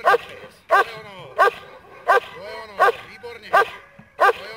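A dog barks in a regular series of about seven sharp, loud barks spaced under a second apart, with whimpering between them.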